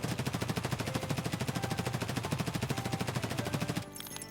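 A modded high-ergonomics MP5 submachine gun fires in Escape from Tarkov as one long, rapid full-auto burst of evenly spaced loud shots, ending abruptly just before the clip closes.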